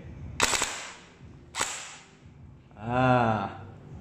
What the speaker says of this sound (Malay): Excited dengar itu bunyi blowback.